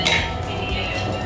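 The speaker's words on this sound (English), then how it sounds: "Now, I just need to crack an egg." An egg cracked for a scone glaze: one sharp, close crack-and-clink right at the start, then a faint kitchen hush for the remaining second.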